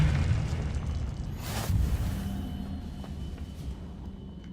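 A Confringo blasting spell explodes in the Hogwarts Legacy video game, a deep rumbling boom with a sharp burst at its peak, then a fading low roar of debris and fire, loud and close, with no talking.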